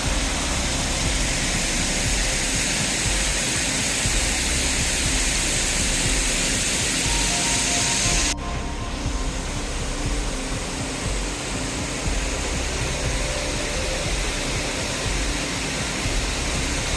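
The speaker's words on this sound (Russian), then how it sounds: "Вон там дальше уже водопад идет." A waterfall in the autumn Appalachians gives a loud, continuous broadband roar, with a slight shift in tone about halfway through and no voices.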